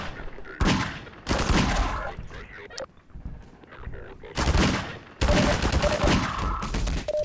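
Gunfire in the video game Half-Life 2, including magnum revolver shots, comes as loud bursts of shooting in separate clusters separated by quieter gaps, with game noise and some background voices around it.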